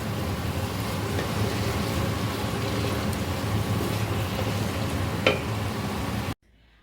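Spiced curry with its masala sautéing in a pan, a steady dense sizzle and crackle of frying with a few brief clinks, going on alone and close before cutting off abruptly near the end.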